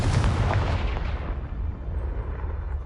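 Confringo fire blast spell in the Hogwarts Legacy video game, a loud close explosive burst with deep rumble that gradually fades into a lingering roar.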